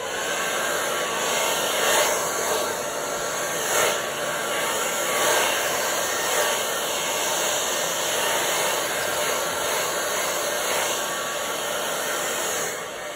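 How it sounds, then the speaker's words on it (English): A blow dryer runs steadily to spread acrylic paint across a canvas in a Dutch pour, a loud continuous whooshing hum with slight fluctuations and no talking. "I find a blow dryer works best for me."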